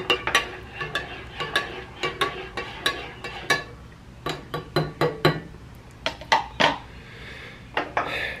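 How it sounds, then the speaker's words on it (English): A spoon stirs coffee with creamer and sugar in a cup, giving repeated bright clinks against the ceramic in an uneven rhythm, close and clear with no talking. "I'm gonna give this guy a stir."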